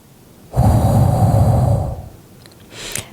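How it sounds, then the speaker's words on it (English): A single long, loud exhale blown out through the mouth with a breathy whooshing sound, close up, followed by quiet. "You're going to exhale through the mouth with a whooshing sound."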